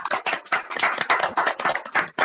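Small online audience clapping together after a concert, a handful of separate hands heard as uneven bursts of claps, close and fairly loud, with no talk over them.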